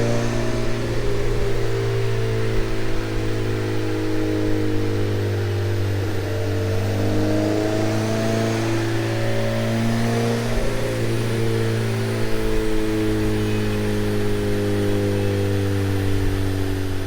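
A rebuilt 1.8T engine in a Mk2 runs on a dyno under a low-boost base map, droning loudly and steadily as revs climb and fall, with the note stuttering where it breaks up past about 3000 rpm.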